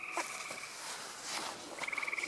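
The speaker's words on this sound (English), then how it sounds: "the biggest leopard frog seen in my life" A leopard frog gives short, faint, pulsed trilling calls, one at the start and a longer rapid run near the end, against a quiet outdoor background.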